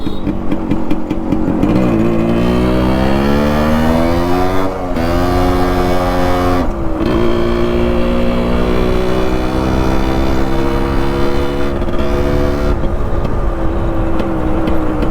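Yamaha RX100 two-stroke motorcycle engine revving loud and close, pitch rising and falling through several throttle blips with brief drops between, continuous throughout.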